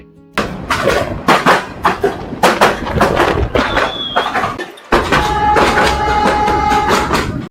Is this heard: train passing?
yes